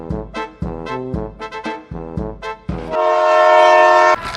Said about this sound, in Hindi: मैं हॉर्न बजा रहा हूँ, ट्रेन आ रही है